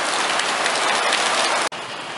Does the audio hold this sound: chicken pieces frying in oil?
no